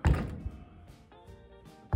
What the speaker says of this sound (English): It wants to shut. The door's not sagging anymore.